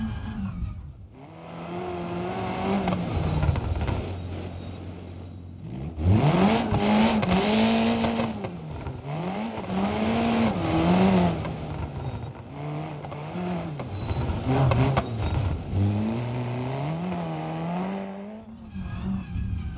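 A rally car's engine revs and climbs through gears in BeamNG.drive, rising and falling whines with tire noise, loud and continuous with no talking.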